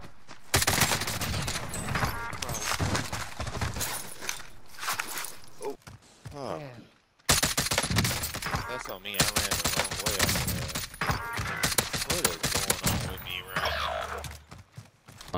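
Gunfire in Call of Duty Cold War Warzone, a dense run of rapid shots and bursts with footsteps and game effects, loud throughout with a brief lull near the middle, while players talk over it.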